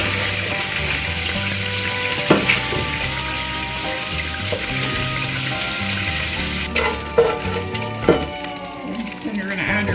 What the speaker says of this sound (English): Add mushrooms and onion and cook until mushrooms have released their moisture